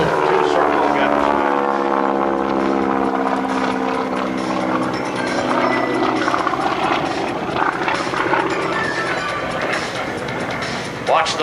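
GEICO Skytypers solo propeller aircraft performing a two-circle maneuver at an air base open house air show, its engine drone loud and continuous with a slowly shifting pitch, under a commentator's voice over the PA.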